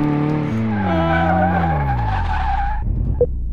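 Car braking hard and skidding in the Car Mechanic Simulator 2018 video game: a loud, sustained tire squeal whose pitch slides downward for nearly three seconds, then cuts off abruptly, followed by a brief thump.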